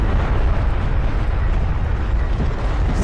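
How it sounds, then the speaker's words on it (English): An artillery barrage pounds a carrier and nearby sand skimmers in the desert strategy game Homeworld: Deserts of Kharak, a dense, continuous roar of overlapping explosions with a heavy low rumble throughout. "Barrage comes down on the carrier now, and that's kind of on top of the sand skimmers too"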